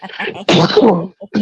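A single sharp, loud sneeze bursts out close by, preceded by a brief breathy intake and followed by a short pause.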